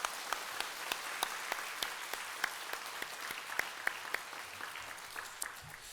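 Congregation applauding in a church during a Sunday service, a steady wash of many hands clapping with sharper individual claps standing out throughout, sustained and fairly even in loudness.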